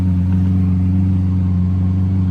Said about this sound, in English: before we bring it into the shop, we can get a few revs